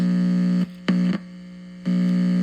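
A radio receiver gives off a straight, steady electrical hum that drops out briefly twice and then returns, with a short burst of static between the dropouts.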